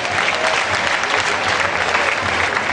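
A lecture audience at a public lecture on youth migration claps, a dense, steady wash of applause that stays loud and even throughout.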